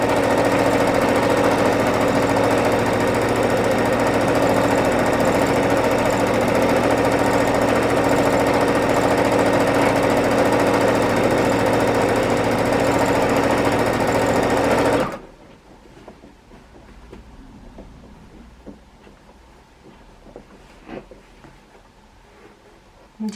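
A sewing machine stitches free-motion quilting in big loop-to-loops on a scrappy quilt, a loud, steady mechanical whir for about fifteen seconds that then stops abruptly, leaving quiet handling noises.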